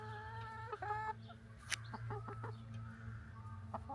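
Chickens cluck and murmur close by, a few brief higher calls among soft, scattered clucks over a quiet low hum.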